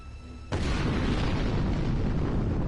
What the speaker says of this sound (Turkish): Köprü patladı lan.